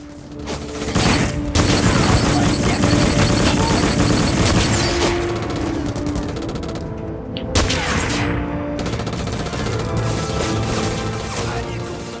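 Sustained, dense gunfire and crashing impacts from the shooter game Black, on a dockyard level. Loud and continuous for several seconds, then it thins into scattered shots and rumbling background noise.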